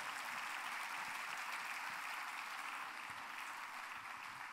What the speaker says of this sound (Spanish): Ahora dale un fuerte aplauso al Señor.